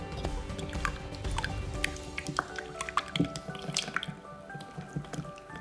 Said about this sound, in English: give them a whisk.